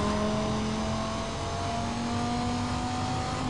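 Engine of a car in Need for Speed Most Wanted (2005) roaring steadily as it accelerates, a loud sustained drone with a rising whine throughout, no voices.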